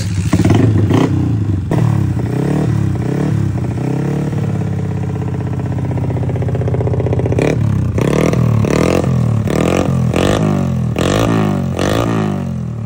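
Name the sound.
Yamaha Sniper MX 177cc motorcycle engine starting and revving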